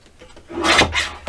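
Layered chipboard pieces are trimmed down to fit a paper sorter, giving a short, close, dry scraping rasp that rises in two strokes and then breaks off, with no voices.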